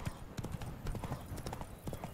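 A horse ridden in The Witcher 3: Wild Hunt, Blood and Wine, with rapid rhythmic clip-clop hoofbeats at a steady gallop close by, under faint speech.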